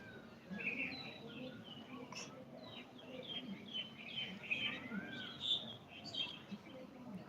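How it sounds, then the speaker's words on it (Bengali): Birds among trees chirp and tweet in short, scattered calls at a distance, faint over a soft outdoor background hum. "পাখি কিচির মিচির ডাক শোনা যায়"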